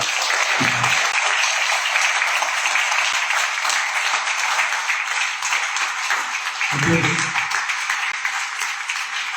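Sustained applause from the audience at an editorial forum panel on audiobooks, an even, continuous roar of clapping that stays steady throughout with only brief low thumps.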